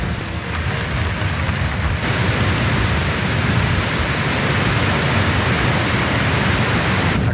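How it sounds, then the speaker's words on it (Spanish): Steady, loud broadband roar of the Velo de la Novia waterfall in Canta Obrajillo, Peru, a continuous rushing wash of falling water close by with no talking. "Esta es la zona previa al ingreso a la cascada"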